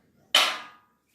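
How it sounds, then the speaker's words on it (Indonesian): A single sharp metallic strike of a large hammer on a metal rain gutter during installation, close and fairly loud with a short ringing decay, then silence. "Pakai palu yang agak besar mas ya. Jangan palu kecil, yang agak besar. Jadi dek dek dek dek gitu mas."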